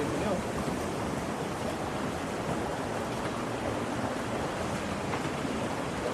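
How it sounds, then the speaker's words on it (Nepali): Steady, loud rushing water of a river being waded across fills the whole stretch, a continuous broadband roar like a fast river churning close by, with no pauses. "Crossing the river."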